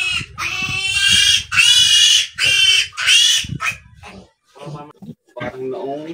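Piglets squeal loudly and shrilly in long, repeated bursts up close while being injected, then give shorter squeaks and grunts as the noise tapers off.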